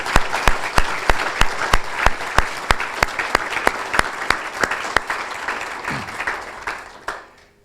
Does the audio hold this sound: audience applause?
yes